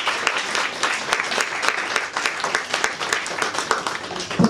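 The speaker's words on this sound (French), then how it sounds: "Si on peut les applaudir encore une fois." Audience at a women's association forum in French applauding, a dense steady burst of many hands clapping at once, loud and sustained throughout without talk.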